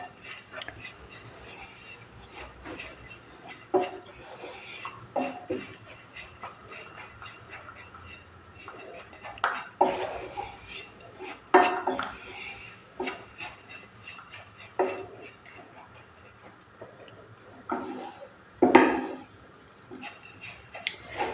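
Oats lightly frying in a spoonful of ghee in a pan, heard as soft scraping and clinking stirs from a spoon or spatula, with several sharper knocks against the pan over a low steady background.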